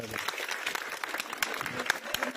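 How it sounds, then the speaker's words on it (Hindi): A crowd claps together in steady applause for a schoolgirl, with scattered sharp individual claps and some voices mixed in. "बच्ची के लिए ताली"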